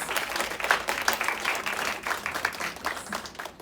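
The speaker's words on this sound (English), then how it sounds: "Let's give them a round of applause." An audience at a philanthropy meeting applauds sponsors, a fairly loud, fluctuating wash of clapping lasting several seconds before tapering off.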